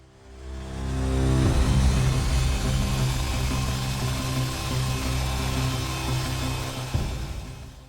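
A DC-8 jet airliner accelerates down the runway on its takeoff roll, a steady loud low roar that builds quickly and holds, with a sharp thump near the end and no voices.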